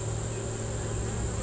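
Honey bees buzz steadily inside an open hive during a summer inspection, a dense continuous drone close to the microphone with no talking.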